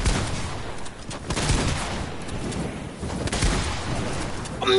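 Rapid gunfire in a video game, loud and dense, with bursts of shots and booms running almost continuously across the few seconds and barely any pause between them.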